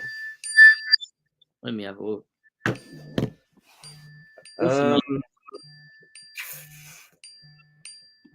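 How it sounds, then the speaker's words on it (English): A mobile phone's notification chime goes off, with short bright tonal dings recurring between stretches of conversation, partly under people talking nearby. "that's my phone going off"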